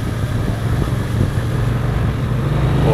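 A new motorcycle, ridden on the road, gives a steady, loud engine drone with wind rush, its pitch holding and climbing slightly under acceleration, with no clear gear-change break.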